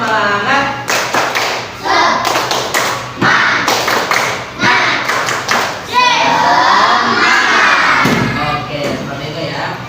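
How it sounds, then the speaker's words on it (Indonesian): Children clap a quick patterned rhythm in bursts during a classroom lesson, with voices chanting and shouting between and over the claps. "Tepuk semangat."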